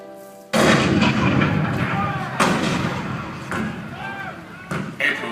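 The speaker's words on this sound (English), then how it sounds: "The cannon spoke for war, bitter, violent, and devastating." Heavy booming cannon blasts go off repeatedly at the Hall of Presidents, depicting Fort Sumter in 1861, loud and close, with rumbling echoes trailing between shots.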